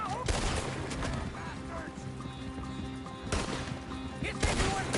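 Gunfire rings out in the open-world western video game Red Dead Redemption 2, with sharp shots in bursts amid horse whinnies and hoofbeats, loud and close, under a low music bed with faint talk.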